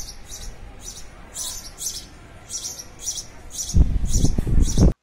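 A house sparrow chirps in a repeated series of short, bright, fairly close calls at a steady rhythm, joined near the end by a louder rustling, clattering sound.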